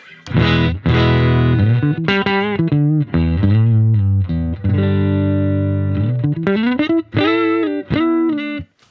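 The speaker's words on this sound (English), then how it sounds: "let's see if we can get some breakup going on the clean channel. Gain and volume on 3 o'clock." Electric guitar played through a Marshall DSL5CR tube amp on its clean channel with gain and volume near three o'clock, giving loud sustained chords and single notes with slight breakup, ringing phrases separated by brief pauses.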